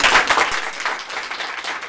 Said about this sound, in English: And now I ask you to repeat that applause, but for Meghan.